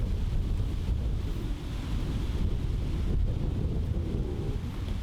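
Steady wind buffeting the microphone on an outdoor disc golf course during a tournament round, a constant low roar with no talk.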